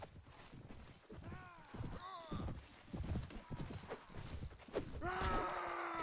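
Horse hooves clopping in the video game Mount and Blade, during a fight with Viking clans in England, irregular thuds mixed with clashing, shouts and game noise while someone talks over it.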